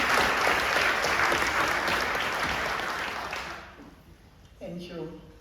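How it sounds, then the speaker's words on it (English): A church congregation applauds the Sunday school during a family worship service, a dense, steady clatter of many hands that fades out, followed by a brief voice. "Shall we give the Sunday school a round of applause?"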